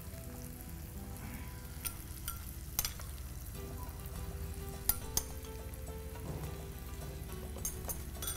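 Chicken fries in oil with mustard seeds, cinnamon, cloves, cardamom, curry leaves and green chilli, sizzling steadily at close range with occasional utensil clinks and stirring, and no talk over it.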